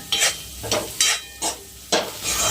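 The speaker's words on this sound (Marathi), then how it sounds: "कोथमीर पण तेलात चांगली आपण भाजून घेऊया" Coriander leaves fry and get stirred in hot oil in a pan, giving five or six sharp scraping, sizzling bursts in an uneven rhythm, close and fairly loud, with no talking.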